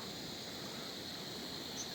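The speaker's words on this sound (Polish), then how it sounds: "Jesteśmy nad jakąś rzeką." A river flows with a constant, even rush of water, faint and steady, with no breaks or voices.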